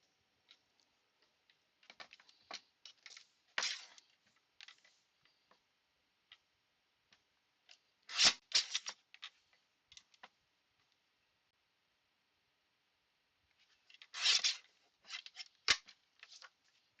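Scissors snip through paper for a handmade craft card in a quiet room, clustered crisp cuts arriving in three separate bursts with silent gaps between them.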